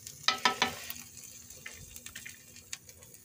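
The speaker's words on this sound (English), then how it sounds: "let these potatoes fry up" Potatoes fry in a pan during a breakfast sandwich cooked in prison, a faint close sizzle with a few sharp crackles early on and softer spitting after.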